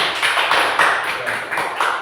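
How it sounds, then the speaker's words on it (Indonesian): A room of people clapping during a training session, a loud, close, rhythmic burst of hand claps at a steady pace, dense and continuous for a couple of seconds. "Tepuk tangan dulu."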